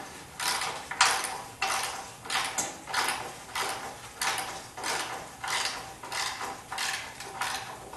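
Offset wrench ratcheting on a nut while removing the gas tank of a 1976 Corvette, a steady series of quiet rhythmic metallic clicks and scrapes, close and isolated with no talk.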